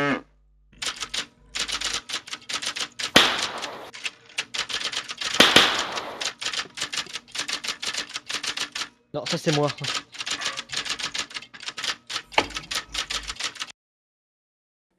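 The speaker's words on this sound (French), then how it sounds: "On a fini de taper sur son clavier là" Rapid clattering keystrokes on a keyboard, in bursts with short pauses, close by, with a brief spoken remark partway through.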